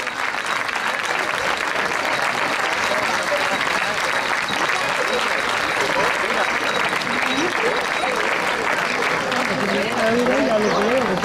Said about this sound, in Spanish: pido ese fuerte aplauso a los ganadores